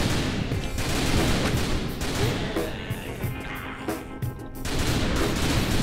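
Dense, continuous gunfire rattles in Typing of the Dead: Overkill as zombies are shot, a loud barrage of rapid shots and impacts running throughout with no talk.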